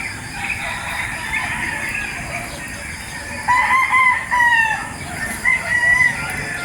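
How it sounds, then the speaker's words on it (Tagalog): Roosters crow in drawn-out calls, one after another, at a moderate distance over a steady outdoor background hum. "Sa dami ng tumitilaok na manok dito sa amin."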